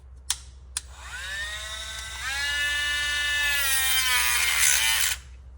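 A Dremel rotary tool, used while installing door sill trim on a 2009 Porsche Cayenne Turbo S, clicks twice, then spins up to full power with a rising whine that climbs again and holds, shrill and close, before cutting off abruptly.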